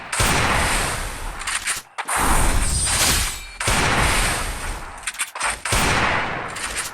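Repeated bursts of Desert Eagle pistol fire in a shooter video game, loud and close, coming in several dense clusters separated by brief gaps.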